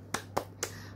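Three quick, sharp hand claps or snaps in a children's rhythmic clapping game for reciting the Hijri months, evenly spaced and fairly soft within one second.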